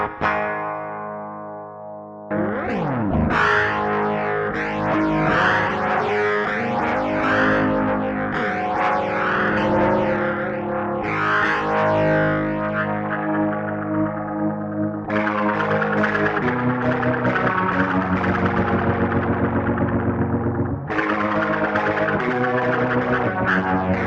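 An electric guitar plays through a BOSS MD-200 pedal set to a Leslie-style rotary modulation with added grit, giving wobbling, swirling chords and notes in distinct phrases after a brief quiet start.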